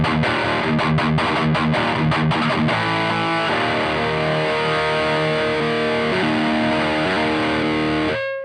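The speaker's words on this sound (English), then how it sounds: "This pre-boost is pretty cool and it is powerful. It saturates like crazy." Electric guitar through a Laney Ironheart amp plugin with its pre-boost engaged, heavily saturated and distorted: a few rapid chugging palm-muted hits give way to a long sustained, ringing distorted chord that cuts off abruptly.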